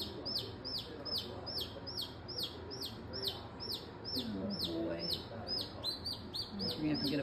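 Backyard hen and newly hatched chick indoors: a steady run of high, repeated peeping chirps from the chick over soft low clucking, with quiet human voices underneath.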